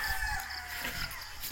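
Chickens at a family chicken farm in hilly, wild countryside, with crowing and clucking fowl heard at moderate distance over a steady outdoor background, no voices present.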